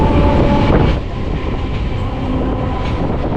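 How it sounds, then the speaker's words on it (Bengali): A passenger train on the Goghat–Tarakeswar line pulls into Baropara station, its loud, continuous rumble and clatter of rolling carriages close by and filling the scene without any talk. "দশটা বেজে বাহান্ন মিনিটে দেখতে পাচ্ছেন আমাদের ট্রেনটা বারোই পাড়ায় এসে পৌঁছালো"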